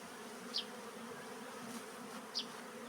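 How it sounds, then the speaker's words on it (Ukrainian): Continuous low buzzing of a large honeybee swarm in flight, even and close, with two short high-pitched chirps breaking through. "бджоли гудять"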